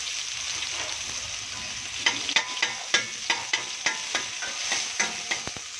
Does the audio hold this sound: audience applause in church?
no